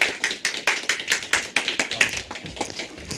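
Audience clapping in a classroom at a civil-service exam academy ceremony for successful candidates, a brisk pattern of distinct hand claps, fairly close, steady throughout with no talk.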